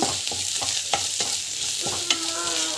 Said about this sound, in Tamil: நல்லா வந்து வதக்கிட்டுக்கோங்க.